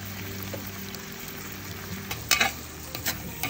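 Buttered shrimp frying in a pan as sweet and spicy sauce goes in, giving a steady close sizzle with scraping stir clatters around the middle and near the end.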